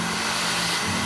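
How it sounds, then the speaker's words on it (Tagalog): A hair blower drying hair after a haircut, a loud continuous airy whir held steady and close for the whole moment. "Sige, tignan natin sa blower."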